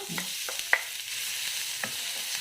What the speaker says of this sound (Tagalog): una kong igigisa po ang ating bawang.